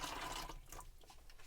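Water splashes and trickles into a measuring jug while mixing a whiskey or gin wash in a van, a short steady pouring burst that thins out toward the end.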